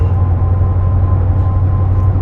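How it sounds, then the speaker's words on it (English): Train rumbling past on a South Wales coast line, a steady, fairly loud low drone that stays even throughout with no change in rhythm and no talking. "I see a train."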